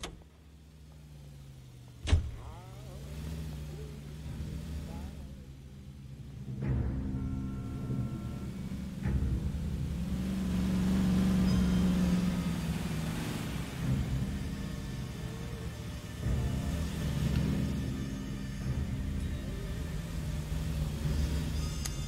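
Car in L.A. Noire, a sharp door thump early on, then an engine starting and a low rumbling drive that swells and holds steady with faint mechanical whirs, moderately loud throughout.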